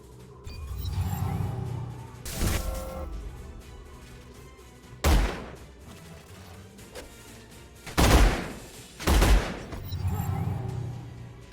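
Gunfire as units are shot in the sci-fi strategy game Age of Wonders Planetfall: several loud, sharp bursts and blasts separated by gaps, over a low rumbling game soundscape with no talking.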